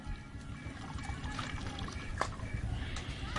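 Water poured out during laundry washing, a quiet continuous trickling splash with faint nearby handling sounds.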